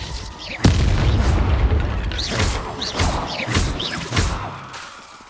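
A Bombarda blasting spell from Hogwarts Legacy erupts in a heavy booming blast, followed by several rumbling crashes and bursts that gradually fade.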